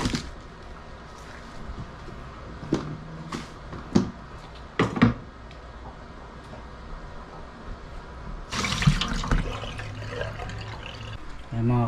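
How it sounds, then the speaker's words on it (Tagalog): Green onion leaves rinsed under a running tap in a kitchen while pompano simmers, with a steady water hiss, a few sharp knocks, and a louder splashing stretch near the end, nearby and with no talk. "hugasan lang natin itong dahon ng sibuyas habang kumukulo ang ating pampano."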